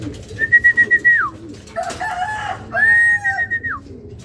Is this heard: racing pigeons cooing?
yes